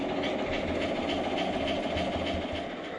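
A G-scale Thomas & Friends model train runs with a continuous rumble and rhythmic clicking of wheels over track joints, close and steady throughout.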